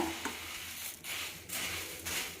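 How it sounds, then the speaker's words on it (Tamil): Puffed rice tossed with chilli powder masala in a hot pan, a steady dry rustling and light sizzle with a few scraping strokes, close and fairly even throughout. "பொறி சேர்த்து கிளறுங்க"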